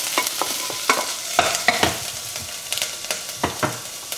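Chopped shallots sizzle gently in a pan for a butternut velouté, with a steady frying hiss broken by frequent clicks and scrapes of stirring. No voices.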